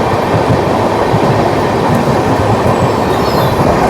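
The Seemanchal Express passes close by with a loud, continuous rolling roar and rapid wheel clatter, with no voices over it.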